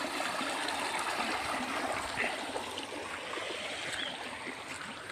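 Rainwater runs along a village stream with a steady, broad rush and trickle, continuous and fairly near, with no voices over it.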